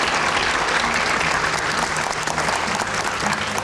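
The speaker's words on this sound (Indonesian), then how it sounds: "Kita berikan tepuk tangan dulu." Dense, steady applause from a studio audience at a televised discussion on safeguarding votes, loud and continuous throughout.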